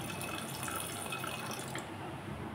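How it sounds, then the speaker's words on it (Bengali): Water is poured into a pot of dal with tomato and turmeric, making a continuous soft splashing, trickling stream that is faint and steady, ending with a few drips, with no one talking. "আর একটু জল দিয়ে দিলাম।"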